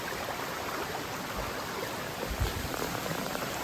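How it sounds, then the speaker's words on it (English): A small river runs over stones on a trail near a waterfall, giving a steady, dense rushing and babbling wash that fills the short stretch with no voices. "You can hear the sound of the water passing through the stones."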